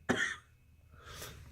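A patient coughs on request during a physical examination: one sharp, close cough, then a softer, breathy second cough a moment later, in a quiet room.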